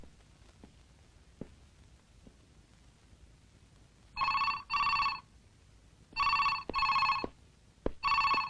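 An electronic telephone bell rings for an incoming call in a Telugu film scene, with three paired rings and a final single ring, loud and clear over a quiet room.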